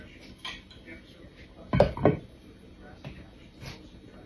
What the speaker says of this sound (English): So I'm just gonna stir all of this together.